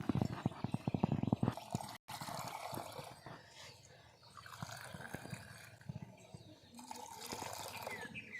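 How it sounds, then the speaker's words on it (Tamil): Horlicks malted drink is poured back and forth between vessels in a home kitchen to cool it, giving uneven splashing and liquid streaming with clinks of metal, close by and moderately quiet. "ஹார்லிக்ஸ் ஆற்றிடலாம்"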